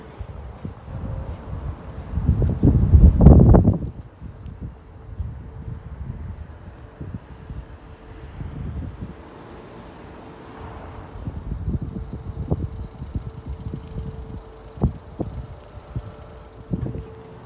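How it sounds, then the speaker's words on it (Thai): Wind gusts outdoors in England, a broad rumbling rush that swells loudly for a few seconds and then settles into a steady, lower blustery noise with occasional faint bumps. "โอ้โห ลม"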